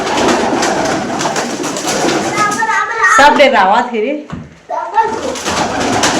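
Pigeons coo inside a closed room while children chatter and play loudly nearby, the soft throaty calls surfacing briefly between voices.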